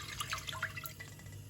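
Apple cider vinegar poured for a green bean pickle: a short, faint splash and trickle of liquid with a few drips, close by and quiet against a low steady hum.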